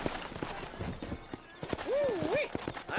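Horse hooves clip-clopping in the Western video game Red Dead Redemption, a quick run of light hoof steps close by, followed by a whinny near the end, with someone talking over them.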